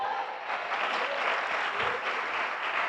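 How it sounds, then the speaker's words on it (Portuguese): A church congregation applauding during a sermon, dense continuous clapping from many hands filling the room at moderate loudness, with faint voices mixed in. "Glorifique e aplauda Ele então."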